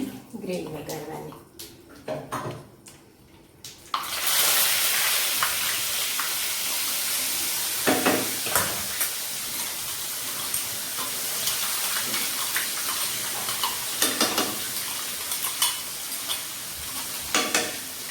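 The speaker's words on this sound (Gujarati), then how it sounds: "ડુંગળીની ગ્રેવી વઘારવાની." Onion gravy tossed into hot oil already tempered with mustard seeds and cumin for bottle gourd kofta curry; after a few quieter seconds a loud, sustained sizzle takes over, with scraping stirs throughout.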